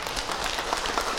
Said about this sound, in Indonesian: lagi tepuk tangan untuk Ustadz Ucep Ibu ya.